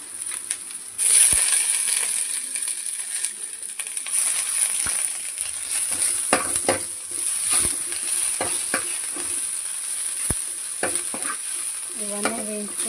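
Mint leaves frying in a pan for spicy egg fried rice, a steady sizzle with stirring scrapes and clicks throughout, close and fairly loud.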